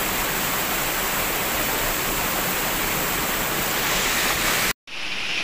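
Turnalı Os waterfall in Araklı, Trabzon, roaring as a dense, steady wash of falling water close by, broken by a brief cut near the end before the rush resumes.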